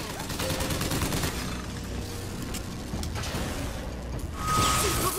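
Rockets fire in the shooter game Bioshock Infinite amid dense, continuous gunfire and explosive whooshes, with a louder burst near the end.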